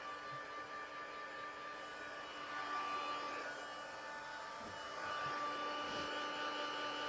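A heat tool blowing steadily to melt clear embossing powder on a card, a constant airy whoosh held at fairly low level throughout with no talking.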